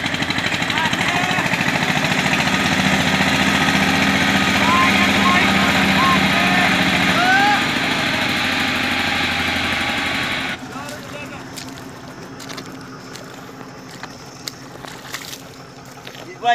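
Eicher tractor engines run at a field while pulling out a stuck harrow, a loud steady diesel drone that drops quieter and rougher partway through, with voices faintly over it.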